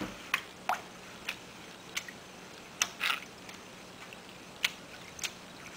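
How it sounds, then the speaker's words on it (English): A synthetic lace front wig is swished through water, producing a series of soft wet squishes and splashes at irregular intervals over quiet background. "continue to swish around your wig in the water until you can see the lace come really nice and clean"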